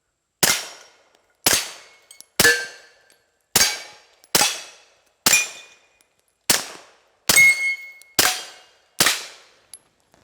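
Springfield Armory Echelon pistol fired in a steady string of ten sharp, loud shots about one second apart, each with a short ringing decay, with no talk between them.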